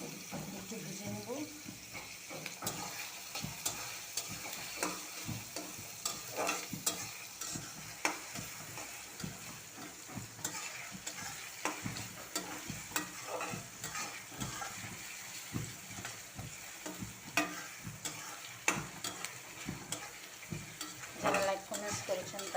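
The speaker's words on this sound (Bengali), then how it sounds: "পেঁয়াজটা একটু বাদামি করে তারপরে দেব" Onions fry toward brown in a pan for a farm-chicken curry, a quiet continuous sizzle with scraping stirs and utensil clinks throughout, some water running at times, no clear speech.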